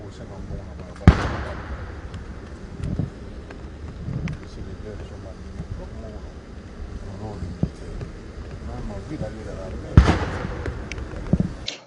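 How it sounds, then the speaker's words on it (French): Cannon shots of a 21-gun salute boom at a historic ceremony welcoming the Congolese head of state, with two loud, sharp blasts several seconds apart over crowd murmur and a narrating voice. "L'entrée du chef de l'État congolais à cet endroit historique et mythique a été saluée par 21 coups de canon"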